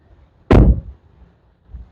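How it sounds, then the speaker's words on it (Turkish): A Dacia Jogger car door swings shut with a single loud, close thud that dies away quickly, followed by a soft later knock in an otherwise quiet setting. "şimdi kapıyı kapatacağım"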